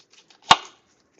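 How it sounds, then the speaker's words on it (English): A single sharp knife chop through half an onion on a cutting board, one crisp close thud in an otherwise quiet kitchen. "Now I'm going to cut the onion"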